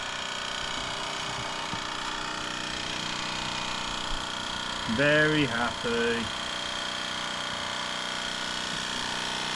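A Mamod TE1a model steam traction engine runs with a faint, steady mechanical hum and hiss in the background, while a person briefly speaks over it.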